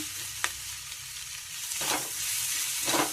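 Crushed ginger and garlic with onion stalks being fried and stirred in a pan for a tangra fish curry, giving a steady sizzle broken by a few scraping strokes of a spatula, with no talking.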